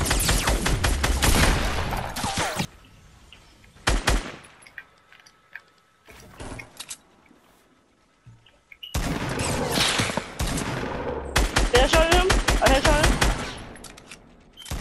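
Rapid bursts of automatic gunfire in Fortnite Battle Royale, loud and close, arriving in two long volleys separated by a few seconds of quieter shots and near-silence.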